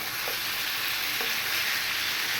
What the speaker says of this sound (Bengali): আমার মাংসটাও ভাজা হয়ে গেছে আর না ভাজলেও চলবে